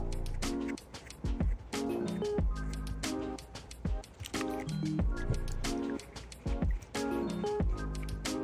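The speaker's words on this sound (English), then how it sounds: "And then we will just let these wigs soak for a little bit" Doll wigs from a vintage 1963 Fashion Queen Barbie soaking in cleanser and hot water, making soft squishing, sloshing and dripping sounds close by, quiet and repeated.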